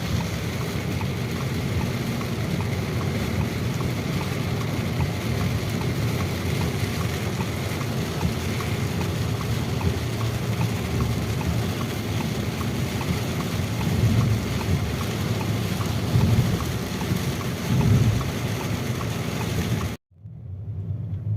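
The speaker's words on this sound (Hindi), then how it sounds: "अच्छी खासी गंदी बारिश हो रही है" Steady, heavy monsoon-style rain roars across the whole clip as a dense wash of noise, heard from a vehicle on the Bundelkhand Expressway in India, with low engine rumble beneath; no distinct thunder claps, cutting off abruptly near the end.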